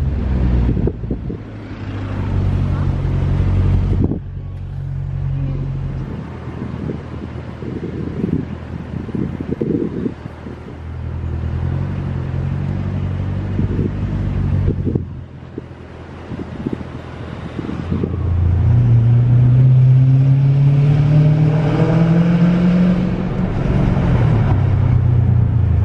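A hypercar pulls away on a Monaco street. Its engine note swells and climbs steadily toward the end, heard through heavy wind and outdoor rumble.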